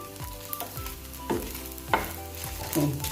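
Whole spices such as black pepper, cinnamon, cardamom, dried chilies, coriander seeds and cloves roast and crackle in a pan, with repeated spoon scrapes and sharp clatters against a steady low sizzle.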